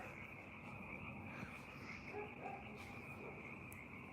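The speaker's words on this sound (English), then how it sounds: "The frogs are starting to do their thing out here." Frogs croak outdoors at night, a faint, continuous chorus with a steady high trill and a few scattered croaks in quiet surroundings.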